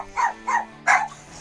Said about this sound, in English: Oh no, dogs are barking.